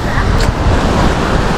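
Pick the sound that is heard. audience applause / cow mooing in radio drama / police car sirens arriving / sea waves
sea waves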